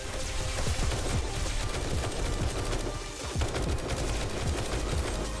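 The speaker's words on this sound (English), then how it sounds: "it's just going to keep this dart trap firing" A dart trap in 7 Days to Die fires continuously, giving a dense, loud stream of rapid mechanical shots that runs without pause.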